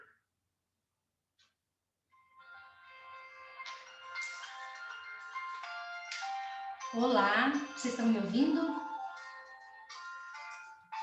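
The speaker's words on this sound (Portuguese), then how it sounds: "Estou ouvindo e ouvindo um telefone tocando." A mobile phone rings during an online class, a tonal ringtone melody repeating steadily for several seconds at moderate level while a teacher speaks over it.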